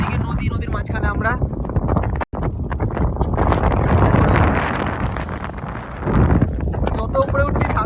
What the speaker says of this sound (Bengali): যত উপরে উঠছি ঠান্ডা তত হাওয়া মারছে।